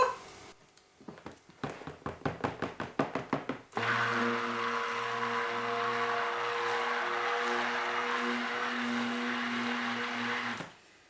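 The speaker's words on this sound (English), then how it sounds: "So we'll give it a stick blend and you can see what happens." A run of sharp knocks and taps is followed by a handheld stick blender whirring steadily and loudly as it mixes soap batter at medium trace, cutting off abruptly near the end.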